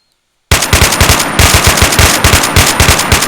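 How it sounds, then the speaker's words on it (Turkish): AK-47 fire in the Unturned video game bursts in after a short silence, sustained rapid automatic shots in a loud, close, even rhythm with a brief pause midway. "Şimdi biz hemen atışa geçelim. Şöyle sıkalım."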